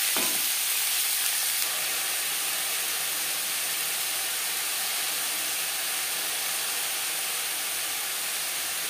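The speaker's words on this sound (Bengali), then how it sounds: "বরবটির সাথে লাউর খোসা বেশ ভালো করে মিক্স করে দেবো।" Yardlong beans stir-fried with bottle gourd peel in a hot pan give a steady, loud, close sizzle that holds evenly from start to finish, with no talking.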